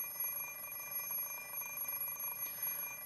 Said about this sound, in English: I glare at the alarm clock for several seconds. I shut off the alarm and climb sluggishly out of bed.